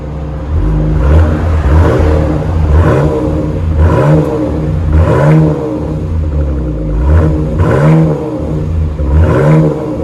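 Dodge Durango 3.6 liter V6 engine revving repeatedly, six or so rising-and-falling throttle blips over a steady idle, loud and close.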